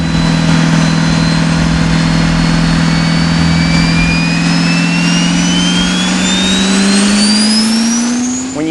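An 1,800-horsepower diesel truck engine roars on a dyno, very loud and sustained, its pitch climbing steadily as it winds up, with a whining tone above the deep rumble and no talking.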